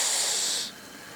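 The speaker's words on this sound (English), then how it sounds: "that hissing sound means the pan was where we wanted it" Cold ingredients hit hot oil in a pan, giving a loud, bright, close hiss that holds steady for about half a second and then drops quickly to a quieter sizzle.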